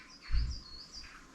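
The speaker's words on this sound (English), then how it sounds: "Excuse all the birds, but just because the weather's so beautiful, we'll have a lot of animals coming to life" Birds chirp outdoors in fine weather during a woodworking job, with light repeated high tweets over a faint background and one low soft thump near the start.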